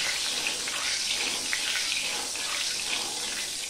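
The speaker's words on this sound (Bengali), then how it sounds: "একটু জল ছিল মনে হয়, তাই জন্য এইভাবে ছিটছে আর কি।" A pan of oil spatters after salt with a little water is added, a dense continuous hissing crackle heard close with no talk.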